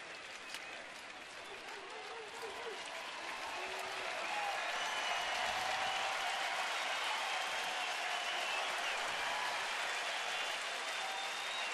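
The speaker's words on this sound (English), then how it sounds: "Crowd appreciating the efforts of Jimenez here today." A baseball crowd applauds pitcher Jimenez with a steady, broad wash of clapping and cheering that swells midway and holds, with no voices rising above it.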